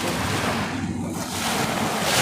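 Sea waves wash and surge close by, mixed with heavy wind buffeting the microphone in a continuous roar.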